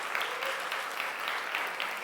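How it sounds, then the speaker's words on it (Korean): A church congregation at a Korean service applauds during a certificate ceremony, a brief, dense burst of many hands clapping at a moderate distance. "박수 치겠습니다."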